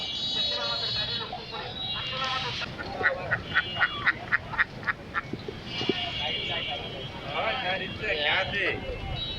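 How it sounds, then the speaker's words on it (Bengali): Ducks at a rural village market in Naogaon, Bangladesh, letting out a quick run of sharp, rhythmic quacks amid scattered honks, with people talking nearby in the busy open-air crowd. "প্রচুর পরিমাণে হাঁস এই হাটে উঠে থাকে"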